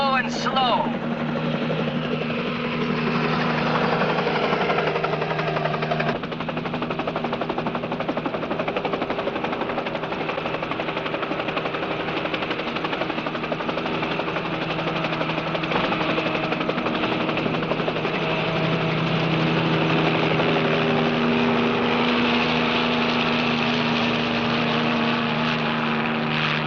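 Helicopter engine and rotor droning steadily at a constant loud level while flying low and slow over Hatter's Cove, with voices talking over it.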